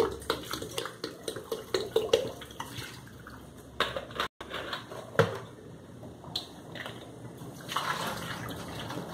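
Water runs and splashes into a metal pot holding chicken feet, with clinks and knocks of cookware around it and a brief break partway through.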